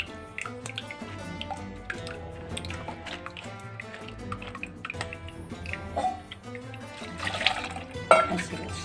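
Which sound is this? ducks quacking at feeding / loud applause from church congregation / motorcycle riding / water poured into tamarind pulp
water poured into tamarind pulp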